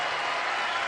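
Game-show studio audience applauding, a dense, even wash of clapping that fills the whole moment at moderate loudness.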